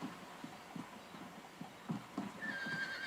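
Horse hooves clip-clop in a steady rhythm during a ride in a VR game, with a brief whinny near the end; quiet and somewhat distant, no voices.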